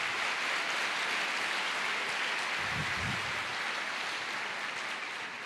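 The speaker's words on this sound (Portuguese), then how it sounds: "Aplauda mais, se expresse." Applause from a church congregation during a sermon, a steady broadband wash of hands with a brief low rumble near the middle, moderately loud and continuous.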